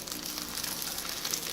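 A thick meatless burger patty frying in oil in a medium-hot pan, giving an even, continuous sizzle with soft crackles, close and steady with no talk.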